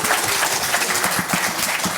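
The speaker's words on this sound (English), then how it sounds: "Give a warm round of applause and have fun." An audience at a Cloud Native London tech meetup gives a steady round of applause, with dense, even clapping that stays close and consistent for about two seconds.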